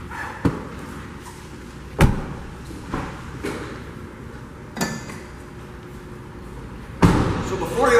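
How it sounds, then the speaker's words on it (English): Charging door on a 2012 Mitsubishi i-MiEV SE being popped open, heard as several sharp plastic clicks and thumps spread across the stretch, close by, over faint background noise. "Now I'm going to pop open the charging door so you can see what that looks like"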